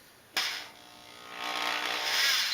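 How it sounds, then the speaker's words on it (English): A power drill with a larger bit widens a hole in drywall while a towel rack is being hung. It starts with a sharp onset, then whirs and grinds steadily and grows louder toward the end, close by with no talking. "I'm just going to switch to the bigger drill bit, and I'm going to make that hole bigger"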